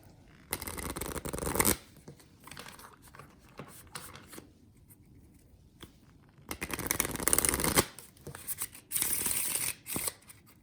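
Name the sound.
shuffling sturdy flexible game cards from the Gladius board game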